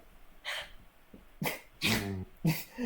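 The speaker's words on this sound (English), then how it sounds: "Sneezing." A few sharp, breathy bursts, one louder sneeze-like snort among them, close to the mic, separated by quiet pauses with faint breathing.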